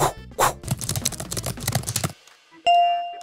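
Rapid, soft clicking keystrokes on a Surface Laptop Go 3 keyboard in a quick irregular run up close, stopping abruptly, then a single bright electronic chime rings out.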